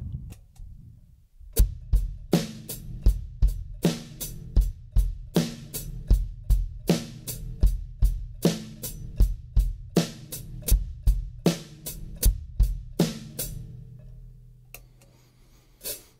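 A beginner's drum beat plays with the hi-hat closed by the foot pedal alone, steady crisp clicks and thumps repeating on a regular pulse at moderate level, trailing off near the end without talk.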